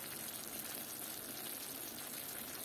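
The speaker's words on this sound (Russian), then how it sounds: "Сейчас грибы дали водичку. Выпариваю грибы." Mushrooms in a frying pan giving off their water as it boils away, a faint, steady hiss and sizzle with soft bubbling and no voices.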